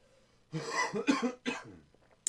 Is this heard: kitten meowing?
no